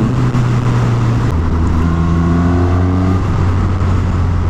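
A loud, steady four-cylinder engine drone from a 2019 Suzuki Katana motorcycle rises in pitch as it revs up, continuous and close, with no talking.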